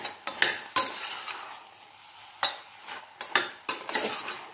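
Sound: stirring rice and vegetables cooking in a pot

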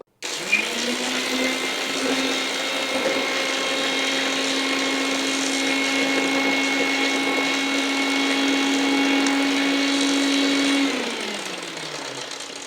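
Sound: mixer grinder grinding mango ginger and turmeric for pickle

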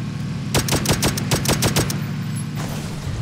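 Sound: gunfire in the video game PUBG

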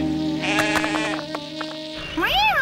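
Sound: sheep bleating on a crag

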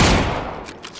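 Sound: sniper rifle shot in video game PUBG

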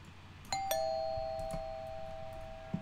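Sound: doorbell ringing in video game Fears to Fathom

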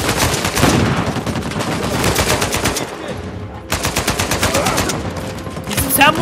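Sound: gunfire in the video game Uncharted 4

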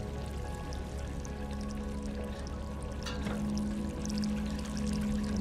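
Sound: water dripping in video game Stray

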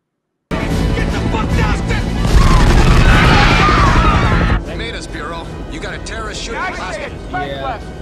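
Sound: gunfire in Die Hard movie scene

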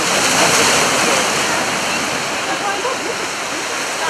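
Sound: large waves on the Black Sea

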